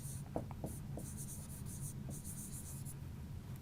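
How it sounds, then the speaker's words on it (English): Marker or chalk scratching across a board during a Class 10 biology lesson, a quiet run of short strokes over a steady room hum, fairly faint and up close. "So, I am writing here"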